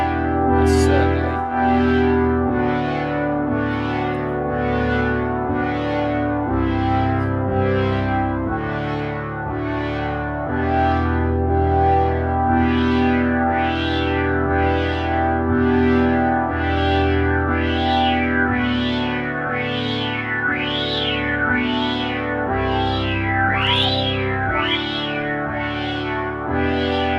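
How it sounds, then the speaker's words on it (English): Sequential Circuits Prophet 6 analog synthesizer playing a recreation of a factory patch from the original Prophet 5, sustained chords under a rhythmic pulsing, sweeping upper layer with a grainy, chorused, echoing tone, steady and loud throughout. "This is a recreation of one of the patches that shipped with the original Prophet 5"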